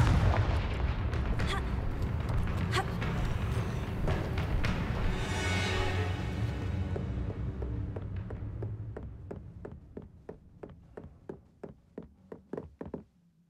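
Fire-blast spell explosions from the game Hogwarts Legacy: a dense, loud barrage of booming blasts and impacts that thins into a rhythmic series of sharp knocks fading toward the end.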